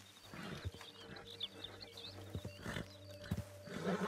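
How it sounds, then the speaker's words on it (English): Horse sounds from Red Dead Redemption 2 as a spooked horse bolts, with soft hoof clatter and snorting over a steady low game ambience and faint birdsong, moderately quiet and without speech. "Yeah, that horse is just gonna run away."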